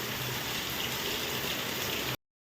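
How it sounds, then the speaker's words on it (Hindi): Heavy rain falling in a steady, dense wash of noise, continuous and loud for about two seconds before cutting off abruptly. "देखो खूब पानी बरस रहा"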